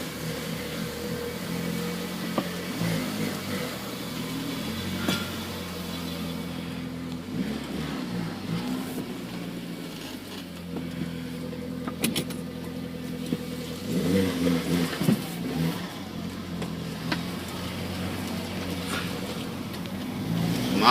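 An Audi engine revs repeatedly after a CV axle swap, with medium-pitched rises and falls in RPM and a steady idle drone between them, heard close up with no speech.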